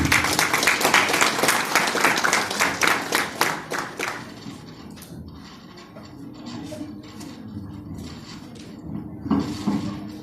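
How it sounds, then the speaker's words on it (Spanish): A burst of loud, dense applause from an audience at a SUNASS ecosystem services event in Arequipa, Peru, fills the first few seconds, then fades into a low murmur with scattered claps. "Un fuerte aplauso, por favor, lo recibimos con muchas palmas."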